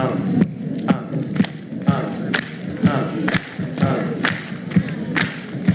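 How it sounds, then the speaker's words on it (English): An audience at a 1966 live show claps along to the music in a steady rhythm of sharp thumping beats, with a crowd murmur underneath. "I need some hand clapping on this here."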